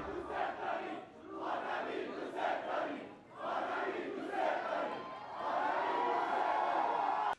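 A large crowd of supporters at a polling place roars and shouts continuously, loud and close, with surging cheers that swell toward the end.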